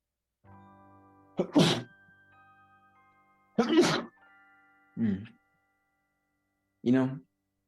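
A few brief, forceful bursts stand out against near silence, one a sneeze, separated by pauses with faint tones in between.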